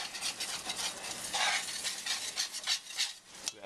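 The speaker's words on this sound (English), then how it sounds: "I'm going to just add it and mix it in, that way everything incorporates together smoothly." A spoon stirs chicken stock into thick sweet potato soup in a pot, giving a steady, close wet scraping and swishing that rises and falls in short strokes, with no talking.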